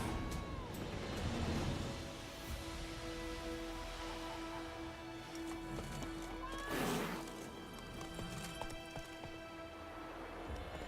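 Horse hooves pound steadily at a gallop in The Witcher 3: Wild Hunt, a continuous rumbling clip-clop with a louder thud and whoosh midway, set against a sustained game-music drone.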